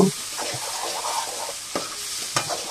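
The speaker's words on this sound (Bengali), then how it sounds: "আলুগুলো দিয়ে আর একটু নেড়ে চেড়ে কষিয়ে নিব" Potatoes and tomato being stirred and fried for a shing fish curry, a steady close sizzle broken by a few soft spatula scrapes, with no one talking.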